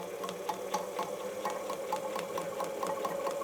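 A sewing machine running a long straight seam at its longest stitch length, a steady mechanical hum with a regular ticking pulse of the needle, close and continuous with no talking.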